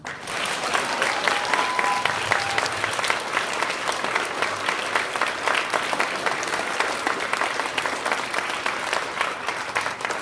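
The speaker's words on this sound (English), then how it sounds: "Go ahead and give them a round of applause." Staff and students at an elementary school give a sustained round of applause, a dense crackle of many hands clapping that holds steady for about ten seconds.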